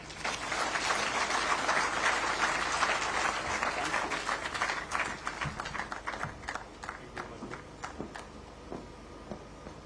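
An audience at an evening celebration applauds, a dense burst of clapping that holds steady and then thins out into scattered, fading claps near the end.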